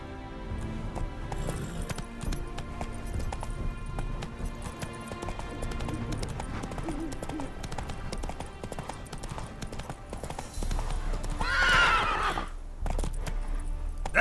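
Roach, the horse in The Witcher 3, gallops with a steady, continuous clip-clop of hooves under dense game ambience and music, with a brief brighter burst near the end.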